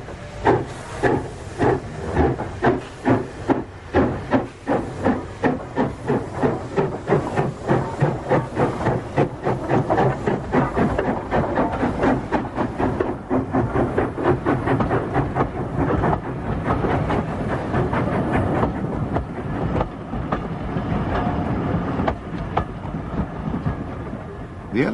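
Preserved LNWR 1054, a restored ex-LNWR steam locomotive working on the Severn Valley Railway, chuffs loudly and close by in a rapid, rhythmic exhaust beat, with a hiss of steam throughout.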